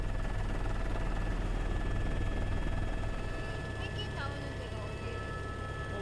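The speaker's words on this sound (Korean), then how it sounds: "생태 환경 조사를 맡은 연구원들이 헬기로 정찰을 시작했다" A helicopter on a reconnaissance flight over the Antarctic ice near Cape Burks gives a steady, loud rotor drone throughout that thins somewhat partway, with faint squeaky tones over it.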